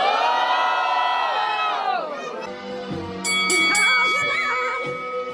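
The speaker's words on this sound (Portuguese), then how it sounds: "Muito barulho para as rimas da Venezian" A crowd at a Brazilian rap battle in Londrina roars and cheers for a rapper, with a loud, sustained wave of shouts and whoops, high yelling and whistles rising near the end.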